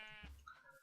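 Sheep bleat in the video game Minecraft: a single short, nasal bleat near the start, followed by quieter game sounds.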